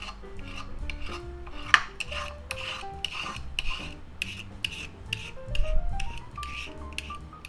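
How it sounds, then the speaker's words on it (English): A small carrot scraped down a metal box grater, a steady rhythmic rasping of repeated strokes, close and clear, with no talk. "box grater and grate up our carrot"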